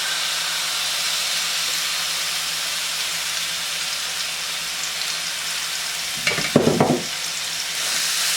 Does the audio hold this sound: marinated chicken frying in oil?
yes